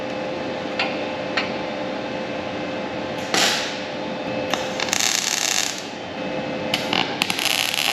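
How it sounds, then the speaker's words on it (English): Short tack welds joining a rusty metal fitting during a repair, heard as a few crackling, hissing electric arc bursts against steady background hum, each lasting about a second with brief gaps between. "We'll throw a couple tacks on it, make sure everything's good,"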